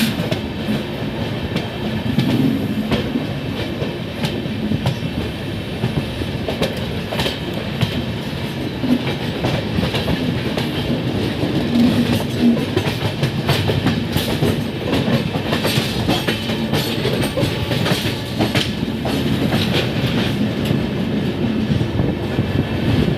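An 18628 Ranchi–Howrah intercity express with LHB coaches runs past nearby, a steady loud rumble with rhythmic clickety-clack of wheels over rail joints throughout, no voices.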